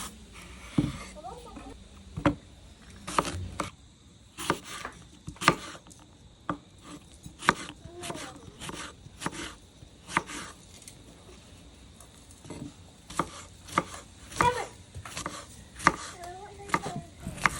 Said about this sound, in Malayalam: ആദ്യം നമുക്ക് ഈ കാണുന്ന ഫ്രൂട്ട്സ് എല്ലാം ചെറുതായി അരിഞ്ഞെടുക്കണം കേട്ടോ.